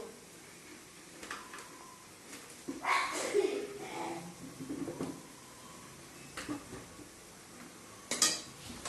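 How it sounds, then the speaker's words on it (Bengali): A spoon scrapes and clinks against a pan while masala fries in a home kitchen, a few irregular metallic knocks and stirring bursts with a faint sizzle, under a woman's speech. "এবার মশলাটা ভালো করে কষাবো, কষিয়ে এইভাবে রান্না করবো।"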